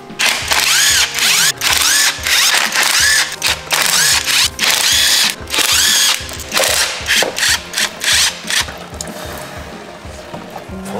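A power tool whirs and ratchets in repeated loud bursts with short pauses as it backs out bolts holding the mechatronic unit on a Mercedes taxi's automatic transmission, close up in a workshop.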